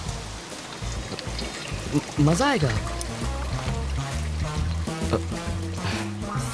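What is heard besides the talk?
heavy rain falling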